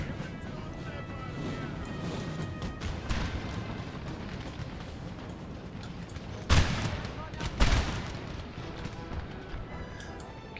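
Battle din from Napoleon: Total War with artillery fire, as distant booms and crackling volleys roll continuously under a busy mix, with two louder cannon blasts standing out near the end.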